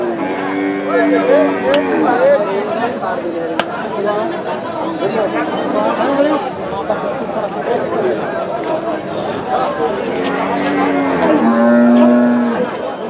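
Several cattle moo and low nearby at a livestock market in Nilphamari, amid a busy crowd of chattering voices, with people talking throughout.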